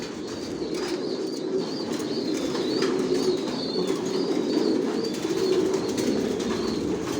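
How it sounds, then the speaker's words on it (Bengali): Long-distance racing pigeons coo softly and continuously inside a loft, layered murmuring calls with occasional wing flutters, close and steady. "আর সব লংয়ের কবুতর পালি"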